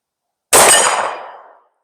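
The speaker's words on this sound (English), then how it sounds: "75 yards away with the Gerson MC 1911 Hunter in 10mm with the 6-inch barrel." A single sharp shot from a 10mm Gerson MC 1911 Hunter pistol with a 6-inch barrel, fired outdoors at a target 75 yards away, cracks loudly after a silence and rings off with a clanging decay lasting about a second.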